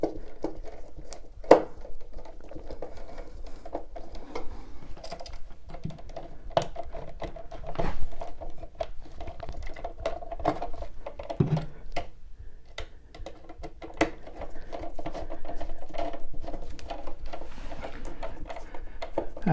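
A screwdriver ticks and clicks in irregular bursts while tightening the screws of a USB wall outlet, with small scrapes and taps of metal on plastic, close by and fairly quiet.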